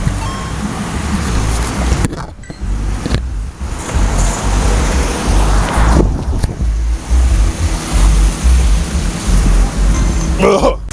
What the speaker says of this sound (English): Wait a minute, it's a bunch of cars.